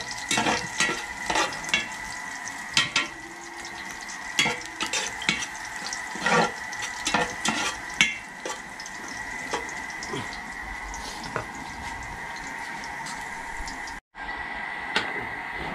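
Garlic sautés in a pan to golden brown, giving a low, continuous sizzle with frequent quick scraping strokes of a spatula, a faint steady whine beneath, and a brief dropout near the end.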